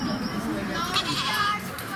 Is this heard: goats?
yes